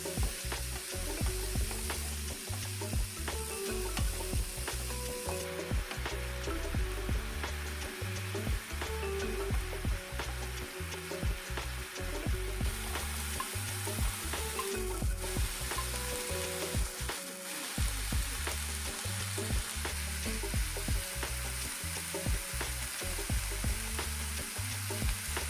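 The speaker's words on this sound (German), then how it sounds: "Ich brate die Füllung nur kurz weiter, bis alles schön weich und aromatisch ist." A mushroom, onion and bacon filling frying in a pan, a steady close sizzle with frequent scraping stirs and clacks of a utensil, alone without any voices.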